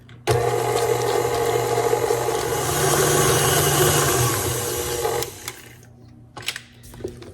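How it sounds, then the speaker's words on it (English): An electric mixer whirs loudly and steadily through sugar cookie dough for about five seconds, then stops, followed by a few light clanks of the bowl nearby. "let's mix that together"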